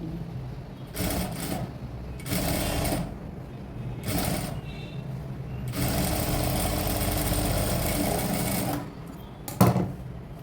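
A sewing machine stitches a garment's front pattern in several bursts of rapid, whirring stitching, the last and longest run lasting a few seconds, with short quiet pauses and a soft clack near the end.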